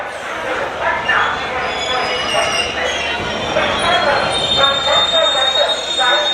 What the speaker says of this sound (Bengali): আজ একটু তিনটে সাতাশে ট্রেন ছেড়ে দিল আসানসোল থেকে